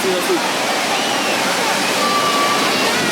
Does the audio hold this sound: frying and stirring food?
no